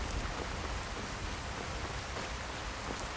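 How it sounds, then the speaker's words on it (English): Steady rain pouring in The Elder Scrolls, a dense continuous hiss of drops on surfaces at constant loudness, with no voices. "Because it's raining."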